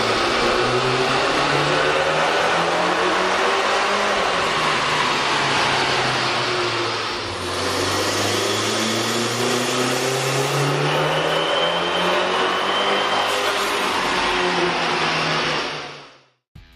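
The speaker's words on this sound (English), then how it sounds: "You can really see and hear the difference the K&N Air Intake system will make to your car." A car engine fitted with a K&N 69-2548TS air intake revs loudly and steadily, its pitch rising and falling in long sweeps before cutting off abruptly at the end.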